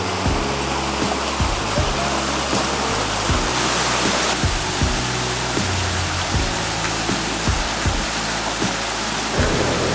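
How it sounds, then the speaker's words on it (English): A waterfall plunges into a great big hidden pool behind it, a loud, dense, unbroken roar of pouring water heard up close, with low thumping surges beneath the steady rush. "behind this waterfall. Oh man. And there's a great big pool."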